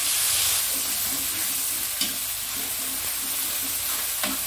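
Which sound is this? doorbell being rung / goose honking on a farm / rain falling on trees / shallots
shallots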